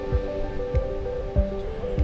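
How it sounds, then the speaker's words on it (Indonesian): Surf at Pantai Gua Cemara beach in Yogyakarta, with waves breaking at a steady rhythm about every half second to second, each one a soft low thump followed by a continuous wash of water. "pengunjung juga dapat berteduh di bawah pepohonan rindang sambil bermain pasir lembut"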